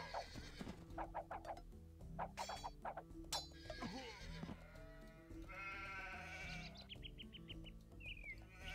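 Sheep bleat in the Age of Empires 2 strategy game, several short wavering calls mixed with other animal and game sounds and a steady music bed, fairly faint.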